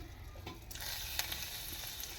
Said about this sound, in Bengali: এবারে শাক ভাজবো